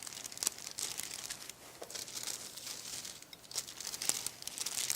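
Wax paper crinkles and crackles steadily while a rolling pin presses pumpkin dog treat dough underneath, with irregular sharp rustles throughout.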